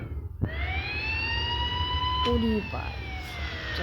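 A police car siren in the video game Indian Bikes Driving 3D wails with a steady rising and falling tone over a constant low rumble, with a brief blip of other game sounds midway.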